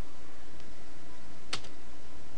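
Computer keyboard typing a command, a few light key taps with one sharper click, close and quiet over a steady background hiss, with no talk.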